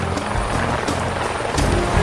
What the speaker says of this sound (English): This is one of the few gardens that we'll use the helicopter this summer to sling it out